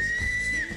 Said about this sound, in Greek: Πάνω να σφυρίξω κι εγώ για να λήξει αυτή η συνέντευξη